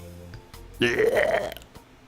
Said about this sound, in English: At that moment, my stomach rumbled.